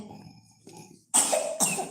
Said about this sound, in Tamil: ஏன் இருமுற